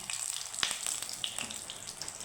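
Fish frying in oil over a low flame in a home kitchen gives a soft, steady sizzle with a few faint pops and clinks, fairly quiet, with no talk.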